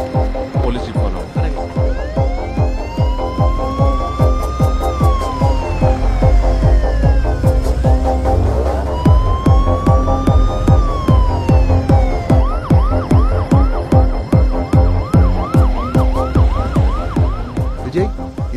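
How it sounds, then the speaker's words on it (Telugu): A police jeep siren wails in long rising and falling sweeps over a rapid rhythmic pulsing pattern, loud and close, with a vehicle driving along in a thriller film scene. "police jeep follow"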